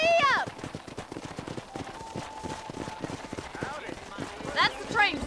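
Horse hooves galloping in Red Dead Redemption, a steady rapid clip-clop rhythm running throughout under game dialogue and a rider's short shout, with whinny-like tones near the start and end.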